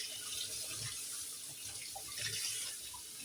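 Water from a tap running while fish is rinsed in a sink, a soft steady hiss and splash, quiet and alone.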